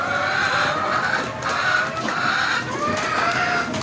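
Hens in battery cages clucking steadily as they are fed, a dense overlapping chorus of close clucks and cackles with a continuous mechanical hum beneath.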